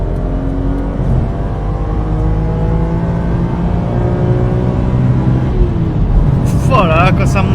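A BMW Z4 M with a stage 1 tune revs high, its engine note climbing in rising harmonic sweeps, loud and close, with someone talking over it.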